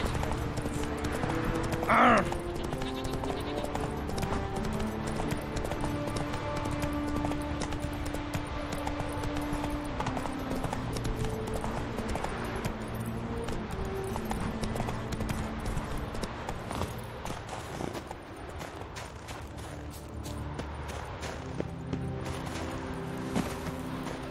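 A horse gallops in The Witcher 3 video game, its hooves clip-clopping steadily and rhythmically throughout over a bed of game ambience and music.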